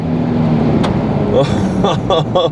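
Engine of a 2013 Jeep Wrangler Sahara held at full throttle during a 0–60 mph road run, a steady loud drone with someone talking over it.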